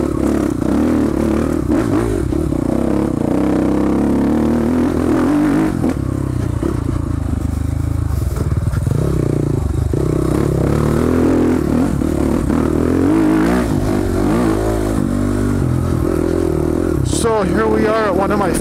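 A dirt bike is ridden off-road, its engine droning and revving steadily close by with clattering and scraping over rough ground, ending in a sharp rising rev burst.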